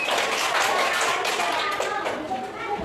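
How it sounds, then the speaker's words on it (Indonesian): Applause in a classroom after a student presentation during a teaching assessment, a steady patter of many hands clapping at moderate level, fairly close and continuous for about three seconds. "Beri tepuk tangan pada Pak Mas."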